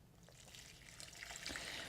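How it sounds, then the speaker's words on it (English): Water trickles and pours steadily over beets in a pot for pickling, a soft continuous splashing that grows slightly louder toward the end, with no voices. "I'm going to take a bunch of water and I'm going to cover them with water"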